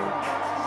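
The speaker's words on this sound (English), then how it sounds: "you can hear this crowd behind me, these supporters" Crowd of Raphael Warnock supporters at his headquarters on Georgia Senate runoff night, a dense steady roar of cheering voices filling a brief moment, loud and continuous.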